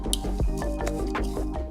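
A melted butter and sugar crust mixture for a pumpkin cheesecake being stirred in a dish makes close, wet, squishy rhythmic strokes with faint clinks, repeating steadily for a couple of seconds without speech.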